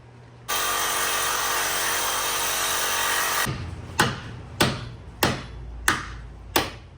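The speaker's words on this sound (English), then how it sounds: "Cut through it enough to slam it off, break the metal." Power tool grinding through a metal tie rod stud on a 2005-2009 Buick LaCrosse front suspension, a loud continuous whine for about three seconds, followed by five sharp metallic hammer blows at an even rhythm.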